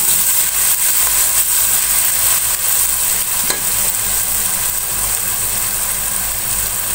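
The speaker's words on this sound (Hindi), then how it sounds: "अब थोड़ी देर लहसुन को भून लेंगे।" Garlic paste fries with fried bitter gourd in a pan, giving a dense, continuous sizzle with faint stirring scrapes throughout.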